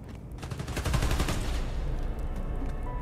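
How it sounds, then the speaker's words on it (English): Gunfire in the video game Spider-Man Miles Morales, a loud, sustained volley of overlapping shots that swells after the first second and keeps rattling on steadily. "They're shooting Transformers?"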